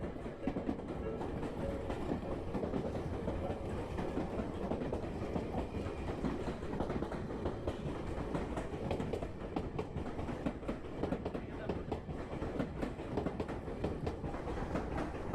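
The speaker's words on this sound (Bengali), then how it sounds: "ট্রেন আসছে" A train arriving at a station in Japan rumbles steadily throughout, with continuous rolling and rhythmic clickety-clack of wheels on rails, loud and close, no talking.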